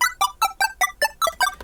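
Twinkly synth chime patch playing eight evenly spaced bright bell-like notes in a steady arpeggio, dry with no delay, each note decaying quickly, close and alone.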